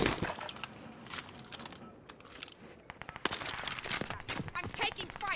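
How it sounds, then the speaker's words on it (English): Video game gunfire crackles in rapid bursts and scattered single shots through the span, moderately loud with some louder volleys toward the end, mixed with brief clicks; no one talks over it. "I'm taking fire."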